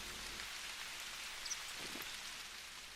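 Steady rain hiss from the video game Hunter Call of the Wild, a continuous even patter with no break and no talk over it.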